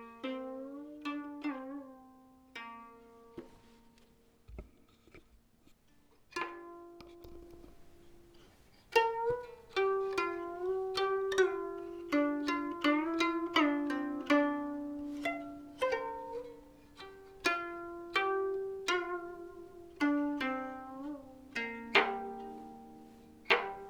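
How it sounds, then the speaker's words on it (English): A koto that sat in an old elementary school closet is plucked, with individual bright notes ringing and decaying, building into a steady melodic run of repeated plucks, close and clear. "This KOTO was in the closet of an old elementary school"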